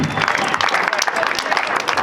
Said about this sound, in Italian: Adesso l'applauso, gruppo Mini Folk di San Lorenzo da Budoni.